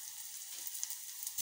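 Grated garlic fries lightly in a pan with a soft, steady sizzle and faint crackles, heard close and alone without talk.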